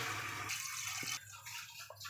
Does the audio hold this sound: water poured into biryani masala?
yes